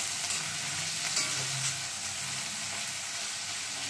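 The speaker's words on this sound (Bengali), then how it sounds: "এই সবগুলো আবার মিনিট 2 মতো আমি ভেজে নেব।" Onion, ten cashews and four green chillies fry over medium heat in a wok for methi malai chicken, a steady hissing sizzle with a few soft stirring scrapes.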